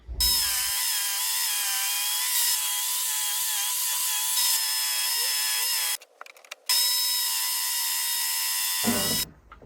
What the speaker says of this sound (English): When resawing on the table saw, it's much safer to just leave a tiny little piece that you can just split off.